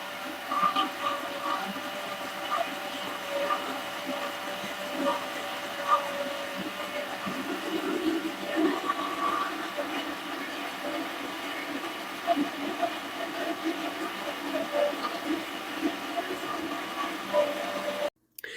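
A wet grinder turning soaked urad dal into batter gives a steady, continuous mechanical whir and rumble, close and unbroken for the whole stretch before it stops abruptly at the end.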